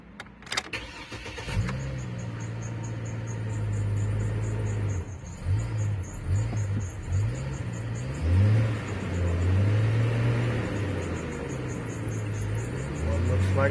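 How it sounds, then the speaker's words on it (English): A 2006 Chevy Trailblazer cranks with a short whirring starter burst, then catches and settles into a steady idle with a few blips in engine speed, and someone speaks now and then over the running engine. "The vehicle is now started."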